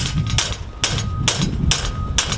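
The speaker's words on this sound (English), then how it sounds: "See if this hammer will straighten this out." Five sharp, evenly spaced hammer blows strike wood about every half second, each a loud broadband crack over a low background rumble.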